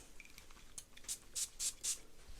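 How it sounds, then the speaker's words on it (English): A Maison Alhambra Salva perfume bottle's atomizer sprays four short hissing bursts in quick succession, close and crisp, after a quiet moment with a few faint clicks. "Let's give it a spray."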